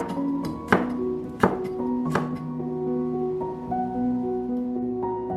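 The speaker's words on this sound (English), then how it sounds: "Then, thinly slice the Thai chilies." A knife thinly slices Thai chilies on a cutting board, giving three sharp distinct chops early on, then softer taps over a sustained tonal background hum.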